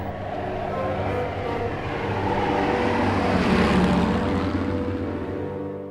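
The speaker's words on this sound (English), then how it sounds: "21 Swordfish aircraft armed with torpedoes took off from the carrier HMS Illustrious" Swordfish torpedo biplanes taking off from the carrier HMS Illustrious: a loud, continuous propeller engine drone that swells slightly and holds steady, with no voices.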